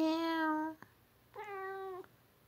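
A cat meows twice, two clear, moderately close calls separated by a short pause, with quiet room background between them.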